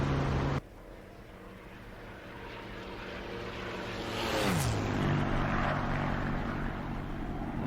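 Spitfire flying past in the DCS World flight game with the cockpit open, its piston engine droning steadily, then rising and sweeping down in pitch as it passes close, loud and alone without talk.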